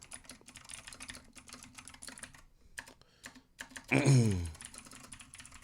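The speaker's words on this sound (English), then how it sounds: "Y'all like my typing speed?" Rapid computer keyboard typing on a livestream, dense fast clicking keys close up for most of the span with a brief pause, then a voice says a short word near the end.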